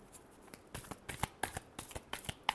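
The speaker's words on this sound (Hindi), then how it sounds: "Last shuffle, last shuffle." Tarot cards being shuffled by hand, a run of crisp riffling bursts at a steady close rhythm, each flurry of card edges ending in a soft slap, with no talking.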